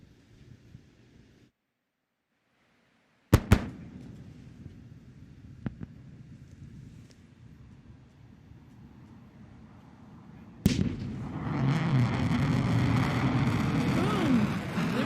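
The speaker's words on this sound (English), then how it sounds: "Boom! There's the sonic boom." The sonic boom of a returning Blue Origin New Shepard rocket booster sounds as a sharp double crack, followed later by a loud, sudden rumble that continues until the end.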